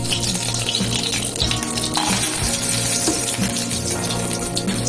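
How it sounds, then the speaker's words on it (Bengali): Bori lentil dumplings frying in hot oil in a home kitchen, a steady dense sizzle and bubbling hiss that runs unbroken and close throughout, with no talk. "বড়িগুলো আগে ভেজে"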